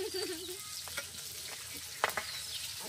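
Boal fish frying in hot oil, a close and steady crackling sizzle broken by a few sharp pops and spatters near the end.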